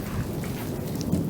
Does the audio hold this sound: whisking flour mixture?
no